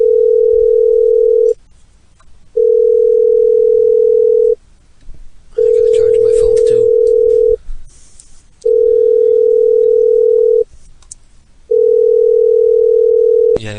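Outgoing call ringback tone played through a computer: five long steady tone bursts of about a second and a half each, separated by roughly one-second gaps, loud and alone with no voices.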